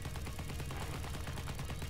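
A cannon fires in a zombie video game with rapid, evenly repeated shots, each a thud close together in a continuous loud volley, alone without talk.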